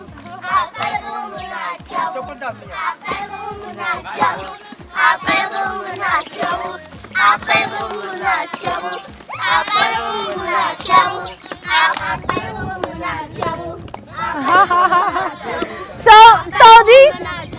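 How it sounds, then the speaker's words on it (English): Rhythmic pounding and clapping beats from shea butter making in Tamale drive along while children chatter, call out and sing over them, lively and close. "This is the sound of shea butter making."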